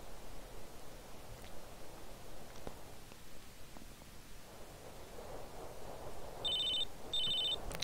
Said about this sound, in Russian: Телефонный звонок